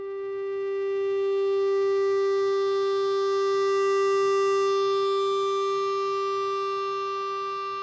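A Roland SE-02 monophonic synthesizer holds one steady, bright tone rich in overtones, swelling gently in loudness and fading slightly toward the end, played alone with no talking.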